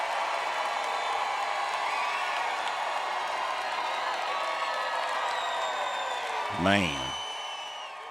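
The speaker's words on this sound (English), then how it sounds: "Maybe it's just the crowd cheering" A live concert crowd for a vocal group's sea shanty medley cheers and applauds in a broad, sustained roar, with someone speaking briefly near the end.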